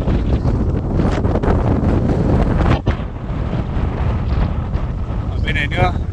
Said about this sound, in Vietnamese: Ở bên này nữa, gió rất to luôn.